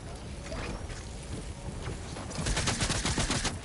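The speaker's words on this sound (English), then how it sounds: "You seem to be getting shot." Rapid bursts of gunfire in the Fortnite video game, dense crackling shots that build into a loud volley near the end of a short stretch of noisy gameplay.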